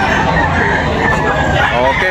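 Chickens and roosters at a busy poultry market, a dense, loud wash of clucking and crowing under steady crowd babble and nearby talk.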